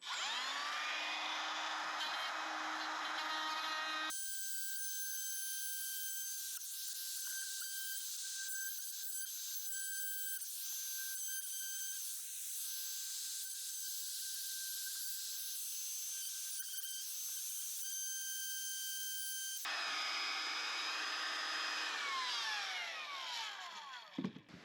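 A router cutting into wood for an off-grid bathroom build, a steady high-pitched whine with a hissing cutting rasp that runs continuously for most of the stretch, loud and close, with quieter workshop noise before and after.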